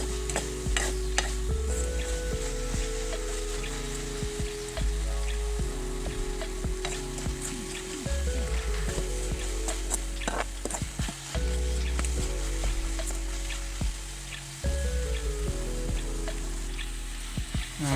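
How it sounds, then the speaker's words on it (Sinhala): Thick coconut treacle bubbles and sizzles in a pan over the fire while a utensil scrapes and stirs it in repeated strokes, loud and close. "පොල් පැණි ටික බැද ගන්න මේ කවලම් කර ගන්න ඕනේ ගින්දරේම"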